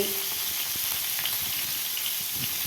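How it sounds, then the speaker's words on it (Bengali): Steady sizzle of a hilsa fish head frying in hot oil, with dense crackling pops throughout, close and fairly loud, no voices. "মাছটা ভাজা চলছে মাথা"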